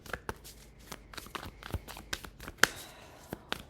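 Tarot cards shuffled by hand in a quiet room, a series of brisk riffling and slapping bursts with one sharper snap near the end, close and fairly soft.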